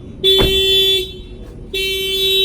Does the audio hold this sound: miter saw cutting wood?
no